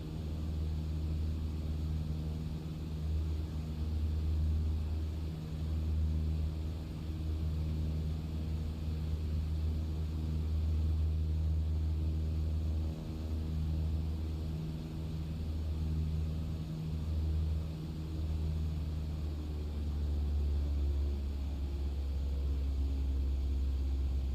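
A light aircraft on a mail run over the Shetland Islands flies its approach to join the downwind leg for a runway, with a steady low engine drone and rumble heard continuously from inside the cabin.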